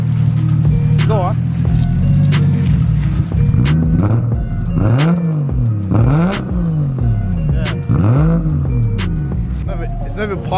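A car engine with a newly fitted turbo revving repeatedly in a loud, close series of rising and falling sweeps, with an idle between, while people talk over it.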